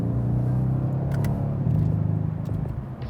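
Interior of a new car accelerating gently, with a steady low engine rumble and road noise that swells slightly partway through.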